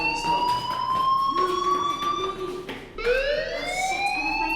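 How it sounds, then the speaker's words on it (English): School fire alarm in the video game Life is Strange, a loud electronic wailing tone that sweeps upward in pitch and repeats steadily. "do you hear that fire alarm? That means you should be outside."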